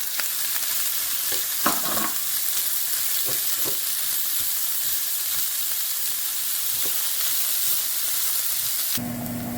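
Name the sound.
three chopped onions frying in hot oil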